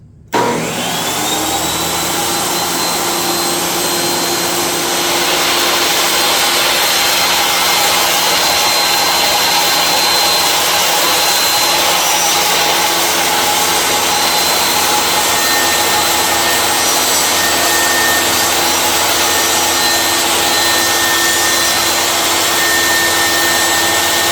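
A power planer planing lumber for rustic farmhouse furniture, roaring up abruptly and then holding a loud, steady whine with a constant tone throughout, close and without speech.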